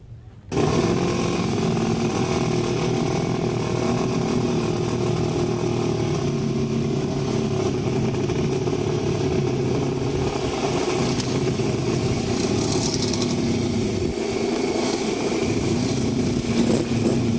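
Several sidecar outfits roar off the start line of a grasstrack race, a dense, loud, sustained engine howl filling the whole stretch with steady revving and no letup.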